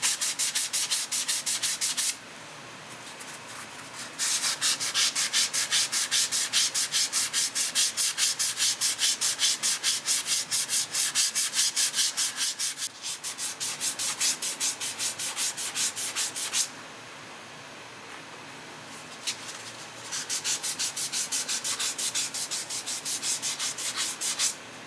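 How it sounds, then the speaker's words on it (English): Guitar body being hand-sanded with 1000 grit sandpaper to remove file scratches, rapid rhythmic scrubbing strokes close up, in several bursts separated by brief pauses. "1000 grit. And this one is really to try and take some of the aggressive scratches out from the files."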